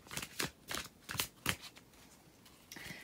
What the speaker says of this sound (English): And I'm just going to shuffle these while I get your channeled messages